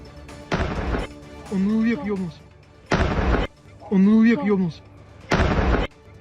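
Three loud, booming explosions from the Russia-Ukraine war at regular intervals, each followed by someone speaking between them.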